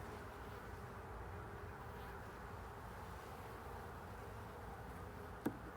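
Honeybees buzz steadily at a hive during an inspection, a dense continuous drone close by and moderately quiet, with one brief tap near the end.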